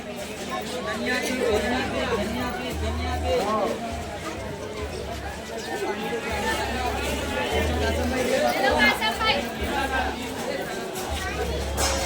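Crowd chatter at a busy vegetable market, a steady babble of many voices close and all around, with someone talking over the hubbub and rhythmic background thumps.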